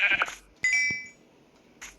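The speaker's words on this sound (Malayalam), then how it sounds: "എടാ ആട്. ഇതെന്തുവാ?" A goat in the Minecraft video game bleats in short, clear, close-up calls, three bursts separated by quiet gaps.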